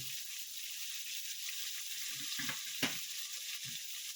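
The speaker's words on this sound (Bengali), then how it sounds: "আদার বাটাটা দিয়ে একটু ভাজবো" Ginger paste frying in a pan for a vegetable and bori dish, giving a continuous close, bright sizzle with a few soft stirring bumps and one sharper scrape, with no talking.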